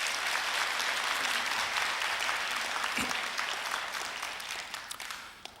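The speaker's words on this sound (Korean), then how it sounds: "우리 박수로 환영하도록 하겠습니다" Church congregation applauding to welcome a visiting pastor, a full steady wave of clapping that gradually thins and fades toward the end, with a few louder individual claps.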